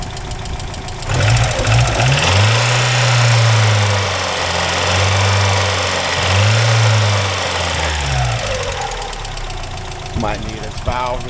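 A 1991 Mazda Miata engine idles and revs in a few smooth rising and falling swells, a close, steady mechanical hum with light ticking, before settling and fading near the end.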